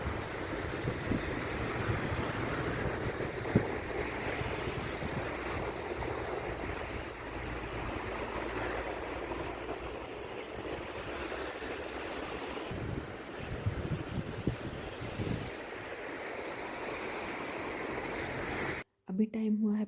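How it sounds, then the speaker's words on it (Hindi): A small river near Donauwörth, Germany, rushing steadily and fairly loudly as a continuous broadband wash that fills the whole stretch, with light wind buffeting before it cuts off abruptly at the end. "पानी की आवाज़ काफ़ी तेज़ है"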